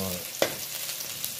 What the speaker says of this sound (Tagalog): Uumpisan ko na maggisa.